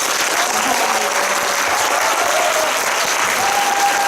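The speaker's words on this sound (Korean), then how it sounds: "큰 박수 부탁드립니다" Audience at a post-screening talk in a cinema applauds steadily, a dense, even wash of clapping from a seated crowd that holds for several seconds with no break.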